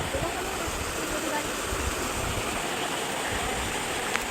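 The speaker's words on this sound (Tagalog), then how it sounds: "Maraming tubig ngayon. Flowing ang tubig." Spring water flows in a steady, dense rush at Balempalis Spring, a constant near roar of moving water filling the short stretch without a break.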